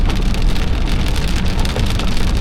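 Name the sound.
heavy rain during a tornado storm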